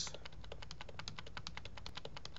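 Computer keyboard keys clatter in a quick, steady run of close, crisp clicks during a gaming session, quiet and alone with no talk.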